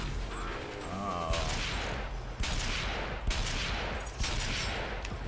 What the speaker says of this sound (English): Pretty sure I know how to fire a gun.